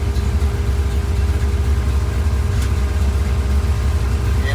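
A car engine idles on a MegaSquirt engine management system with ignition timing set to 30 degrees, a steady, close, continuous low rumble with no talking.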